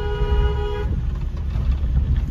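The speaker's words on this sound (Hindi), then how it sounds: "इनको लॉन्ग हॉर्न पुश करके अलर्ट करो" On a rough village road, a sustained car horn blares for under a second over steady road and engine rumble, then traffic noise continues.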